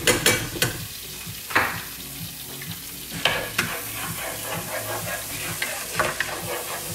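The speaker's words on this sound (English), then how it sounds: "you can hear it sizzling" Garlic sizzling and frying in a hot pan as shrimp are cooked, a steady close crackle with several sharp stirring scrapes and clatters standing out above it.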